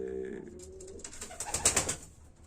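Tumbler pigeons coo softly nearby in a short burst of low throaty calls, with a few faint chirps over the top.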